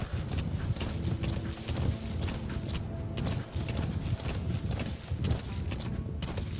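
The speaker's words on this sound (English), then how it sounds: "We can slip and slide with the horse." A horse gallops in the video game Metal Gear Solid V, its hooves a continuous rhythmic clip-clop of fast, evenly spaced thuds close by, with no talk.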